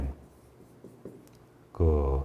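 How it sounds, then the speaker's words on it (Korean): Handwriting during a lecture: soft scratching strokes and light taps of the writing tool carry on at low level for under two seconds, then a voice starts speaking. "한번 써볼게요."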